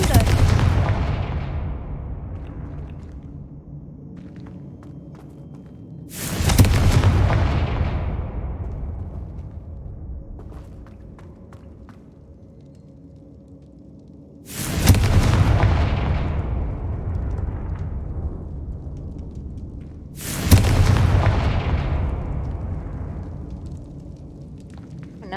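Four booming fiery blasts from the Confringo spell in Hogwarts Legacy, each a sharp crack followed by a long rumbling decay, spaced several seconds apart and loud in the foreground.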